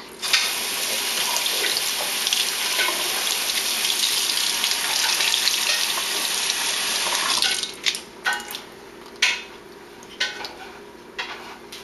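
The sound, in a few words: tap water rinsing beans in the sink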